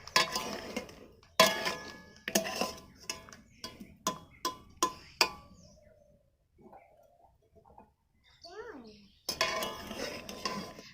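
Boiled carrots are drained from a metal pot, with a run of sharp clinks and knocks of pot and utensils, then a quieter lull with faint background chirps before more clattering returns close by.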